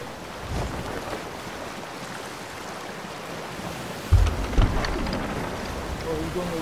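Steady hiss of video game rain with gusty wind and a low rumble like distant thunder, two heavier thumps midway, a voice faintly present.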